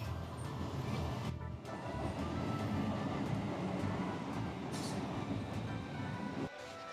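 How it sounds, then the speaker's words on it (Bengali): A train pulls into a station on the Azimganj to Tarakeswar route, a steady rumble of wheels and carriages with a few sharp metallic clanks, fairly faint and distant. "ট্রেন আসছে। এই তো ট্রেন ঢুকে পড়েছে।"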